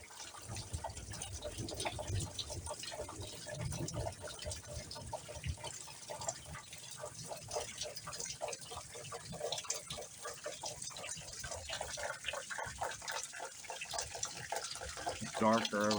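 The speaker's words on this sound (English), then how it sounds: "Getting a lot of rain." Heavy rain in a storm streaming and splashing steadily, a dense continuous wash of water close by, with someone talking intermittently over it.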